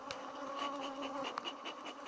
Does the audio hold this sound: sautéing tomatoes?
no